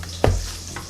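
Seasoned food, salted for a breakfast dish, sizzles softly in a pan, with one brief scraping stir and a fainter second one.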